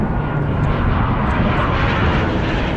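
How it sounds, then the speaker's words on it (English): Blue Angels jets flying overhead during Fleet Week test flights in San Francisco near the Golden Gate Bridge, a loud continuous broadband engine roar that holds steady throughout. "The Blue Angels were flying above, running test flights for San Francisco's Fleet Week"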